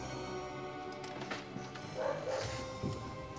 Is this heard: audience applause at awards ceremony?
no